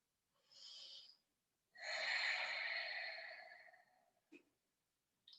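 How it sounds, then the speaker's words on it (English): Ujjayi breathing through the nose during a yoga class, with a short inhale followed by a longer, wave-like exhale, then a brief snort-like breath, close and alone in a quiet room. "start your Ujjayi breathing. In through the nose, out through the nose."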